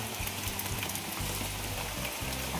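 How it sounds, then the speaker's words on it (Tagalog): Dense hissing rain pours steadily, with a low intermittent hum beneath it; no voices. "lakas po ng ulan"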